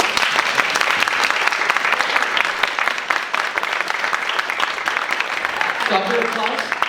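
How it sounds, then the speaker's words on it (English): An audience claps on request, a dense, steady burst of applause from many hands that carries on throughout, with a voice briefly speaking near the end. "Will you do me a favor, just simulate a clap for me."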